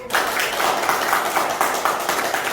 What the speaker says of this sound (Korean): 박수 한번 쳐놔요